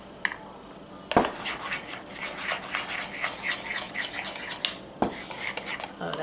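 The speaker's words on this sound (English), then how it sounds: "Make sure you stir it good and there's no streaks of gel food coloring sitting at the bottom or any on the sides of the bowl." Gel food coloring stirred into chocolate fudge mixture in a bowl gives a steady scraping, rubbing rasp of a utensil against the bowl, with a couple of sharper knocks, close and continuous without talk.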